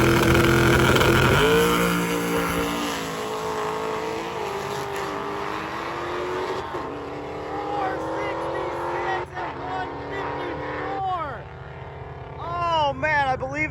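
Chevy II drag car launching and tearing down the track at a street race event, a loud, rising engine roar that pulls away into the distance, with engine sounds and crowd noise continuing after it passes.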